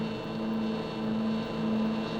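Ship or submarine engines drone at full power, pushed to 85 knots, a steady, even hum with a strong low tone that holds without a break.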